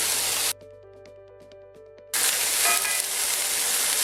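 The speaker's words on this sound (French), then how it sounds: "ma viande, elle continue de rissoler" Beef shank sizzles steadily as it browns in a wide hot pan with a loud frying hiss that cuts out briefly, leaving a quiet gap with faint clinks, then resumes.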